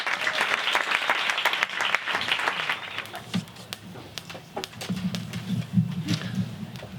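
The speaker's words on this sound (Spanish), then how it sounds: "Muchísimas gracias, Juan Antonio, y un fuerte aplauso" Audience applause at an evening talk welcoming a speaker, dense clapping that fills the first few seconds and then thins into scattered claps as the room quiets and a voice begins.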